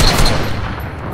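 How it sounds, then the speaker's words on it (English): Gunfire in a shooter video game, a dense rapid burst of shots that fills the whole moment, loud and continuous with a sharp crack at the start. "I guess I'll just shoot him"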